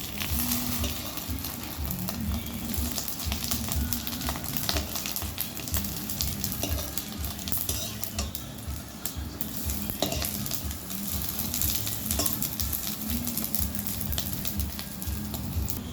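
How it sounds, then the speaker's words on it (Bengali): Fish roe fritters sizzle steadily in hot oil in a pan, a continuous dense crackle and hiss with faint scraping as the fritters are turned, heard close up with no talking. "এবার বড়াগুলো আমি উল্টে দেব"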